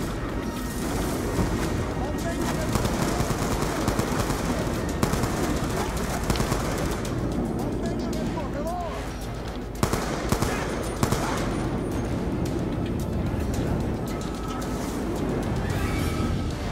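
Rapid machine gun fire and explosions from the video game Call of Duty Black Ops 2 in a ship siege battle rattle continuously under dense background noise, with a voice talking.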